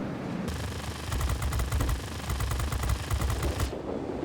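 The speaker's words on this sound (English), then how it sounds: "We also feature 6 50 cal machine guns" Six .50 cal machine guns on an F-84F Thunderstreak jet fighter in World of Warplanes fire in a steady, rapid rattling burst lasting about three seconds, loud over a constant engine drone.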